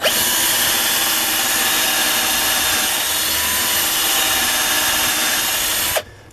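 A power drill runs steadily and loudly for about six seconds, deepening a hole in a part of a vintage Haenel Model 2 air rifle during its refurbishment, then cuts off abruptly.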